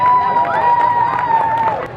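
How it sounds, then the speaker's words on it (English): A festival crowd at a comedy hypnosis show applauds and cheers, a loud, full wash of clapping and voices with a sustained tone running through it. "Give them another big round of applause, everybody."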